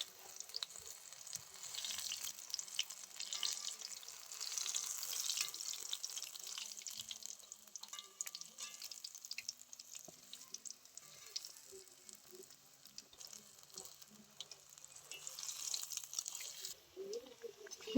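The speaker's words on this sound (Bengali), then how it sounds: "হিংচার পকোড়াগুলো আমি একটু সময় নিয়ে খাস্তা করে ভেজে নেব" Hincha greens pakoras deep frying in oil, a soft high-pitched bubbling sizzle that rises and falls, quiet and steady with faint small clinks.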